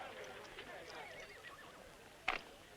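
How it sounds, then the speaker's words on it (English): A horse whinnies once, a short bright burst cutting through quiet background murmur and faint voices from a 1964 western setting. "There's that horse."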